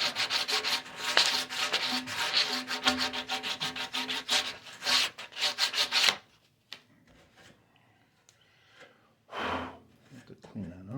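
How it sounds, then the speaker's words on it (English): Sandpaper rubs back and forth in quick rough strokes across the bottom of a piece for a foam puppet stand, loud and close for about six seconds. A quieter pause follows with another short scrape. "So I'm going to sand the bottom of this bit, rough it up a little,"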